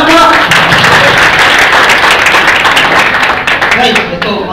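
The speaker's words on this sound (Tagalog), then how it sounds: "Palakpakan naman po" An audience claps together in a loud, dense burst of applause that runs throughout, with voices mixed in and the clapping thinning near the end.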